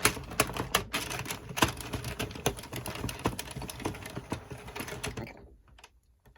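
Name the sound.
circular knitting machine being cranked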